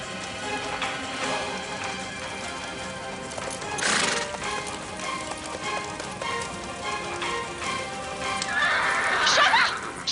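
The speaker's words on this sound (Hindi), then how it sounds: "रानी बा, वो घोड़ा कैसे चारों तरफ से आग में गिरा है?" A horse trapped in a fire neighs amid loud dramatic scene ambience, with clopping hooves, rain-like crackle and a sharp whinny rising near the end.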